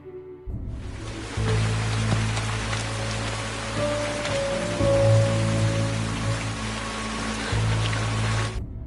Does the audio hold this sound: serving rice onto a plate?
no